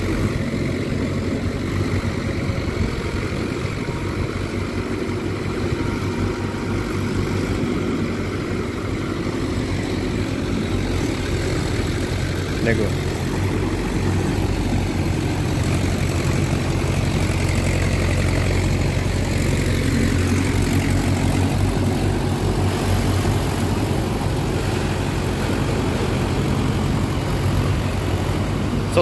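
A Mahindra Yuvo 585 4WD tractor plowing a field slowly, its diesel engine droning loud and steady throughout with a constant low rumble; a single spoken word briefly breaks in.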